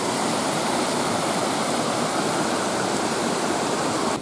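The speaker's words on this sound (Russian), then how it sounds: "Горная речка. Очень шумно здесь, правда." A mountain river rushes loudly nearby, a constant broadband roar of turbulent water with no breaks or voices, steady and close throughout.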